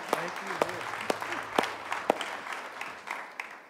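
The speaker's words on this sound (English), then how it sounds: "let's give them a round of applause" A church congregation applauds a band at a Sunday service, with sustained mid-level clapping under which a voice speaks, several sharp claps standing out along the way.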